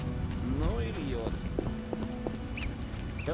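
Steady heavy rain pours in the video game The Witcher: Enhanced Edition, a constant hiss under occasional game sounds and someone talking over it.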